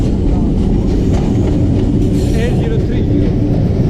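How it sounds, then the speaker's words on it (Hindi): The Mehr Express passenger train rumbles past loud and close on a Pakistani rail line, a steady heavy roar of wheels and carriages with faint clatter throughout. "महर एक्सप्रेस"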